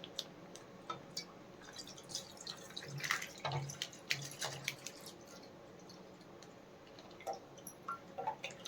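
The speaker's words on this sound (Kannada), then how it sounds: "ಈಗ ನಾನು 1 ಲೀಟರ್ ಹಾಲನ್ನ ಒಂದು ಬಾಣಲಿಗೆ ಹಾಕ್ಕೊತಾ ಇದ್ದೀನಿ" Whole milk poured into a pan at home gives soft dripping and splashing water-like sounds, quiet and close, with small irregular splashes throughout and no talking.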